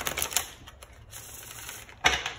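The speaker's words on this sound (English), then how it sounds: "One more shuffle for Capricorn." A deck of tarot cards shuffled by hand close up: crisp, rapid riffling bursts at the start and again near the end, with quieter card handling in between and no voices.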